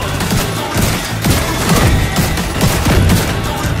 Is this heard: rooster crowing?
no